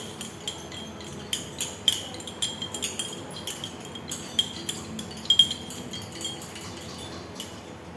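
Glassware clinks as hot acetanilide solution is stirred over a burner, a string of light, irregular taps and chinks, fairly close and quiet, with no one talking.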